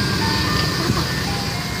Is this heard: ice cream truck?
yes